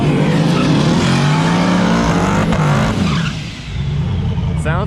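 A twin-turbo LS-powered Nova drag car roars loud and close at a drag strip, its engine note sustained at full throttle before dipping briefly and surging again, with spectators shouting over the noise.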